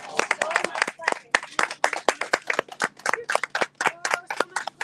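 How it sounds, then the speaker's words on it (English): A small group claps in a quick, uneven rhythm during a New Moon healing fire homa ceremony, with sharp close-by claps and voices joining in between them. "So much clapping."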